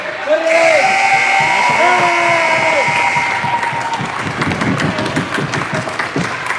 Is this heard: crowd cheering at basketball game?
yes